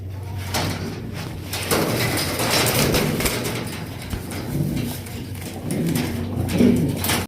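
Fancy racer golla Giribaz pigeons coo steadily at close range in a loft, soft throaty calls rising and falling over a faint background hum with occasional rustling.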